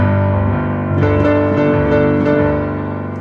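Piano playing the chords of The Inbetweeners theme, sustained left-hand bass notes under a few struck upper chords, close and clear with no talking.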